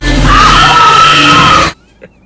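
A woman lets out one long, piercing scream close up that holds for nearly two seconds and then cuts off abruptly.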